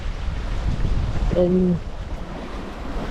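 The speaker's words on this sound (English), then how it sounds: "Wind seems to be filling in now." Wind roars and ocean waves wash around a sailing boat at sea, steady and rumbling, with someone speaking briefly over the blustery noise.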